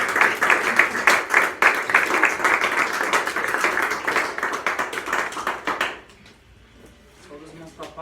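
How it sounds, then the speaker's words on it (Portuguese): A church congregation claps and applauds in a dense, lively burst for about six seconds, then it stops abruptly and a quieter room tone with faint voices follows. "E a igreja aplaude ao Senhor por essa Glória a noite."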